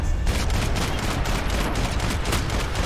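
Dense, continuous gunfire from the PC shooter Max Payne 3, with rapid overlapping bursts sounding loud and close throughout, with no speech.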